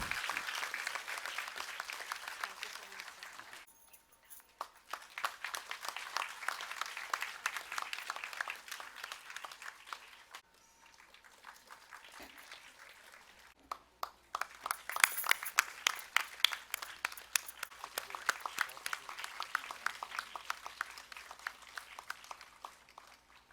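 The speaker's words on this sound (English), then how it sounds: "let's give a round of applause to both of them" Audience applause at a steel plant women's organisation formation day celebration rings out in two long waves, a sustained patter of many hands that dips briefly in the middle and swells again, moderately near.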